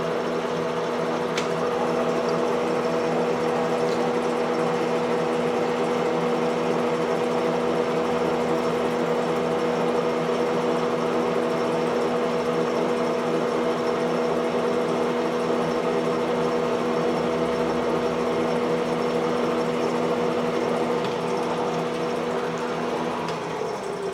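A metal lathe runs steadily while turning down a 3/4-inch mandrel built to hold small parts, giving a continuous close motor hum with faint tonal whine and no pauses or voices.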